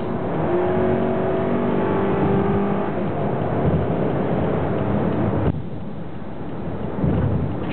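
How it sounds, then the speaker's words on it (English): A Scion car's engine pulls hard as it accelerates to merge into traffic, a steady loud drone heard from inside the cabin that eases back slightly near the end. "So now you're merging onto traffic. And you want to get on the gas."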